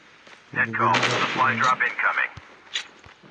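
A few sharp gunshots ring out in Call of Duty on the Alcatraz map, short cracks scattered among in-game voices and effects, with people talking over the action.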